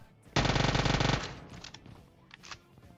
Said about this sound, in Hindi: मैं आया, उजी चलाई और सीधा पेटी बन गई।